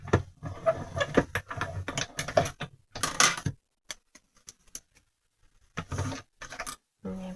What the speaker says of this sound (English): just run that through the die cut machine